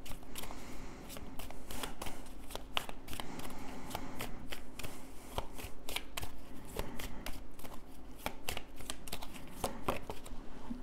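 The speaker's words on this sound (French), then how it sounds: "Tirage du destin à 13 cartes." Oracle cards are shuffled by hand for a 13-card tarot draw, a close, continuous papery riffling and flicking with rapid sharp snaps, heard alone and fairly quiet throughout.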